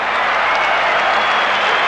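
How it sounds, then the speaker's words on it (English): Large crowd at a 1986 Australian football match between Melbourne and Collingwood roaring and applauding after a Collingwood goal, a dense, continuous, loud wall of cheering with no break. "I think it's right by the sound of the crowd"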